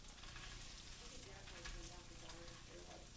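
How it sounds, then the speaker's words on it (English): Spicy squirrel meat frying in a skillet on a stove set to high, a dense, steady sizzle and crackle that stays constant throughout at a low level. "But you're just frying it."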